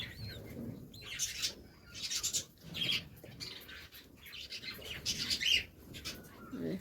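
Pet lovebirds chirping close by in repeated bursts of shrill tweets and squawks separated by short pauses, with no voices.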